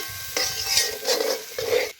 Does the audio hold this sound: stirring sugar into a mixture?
yes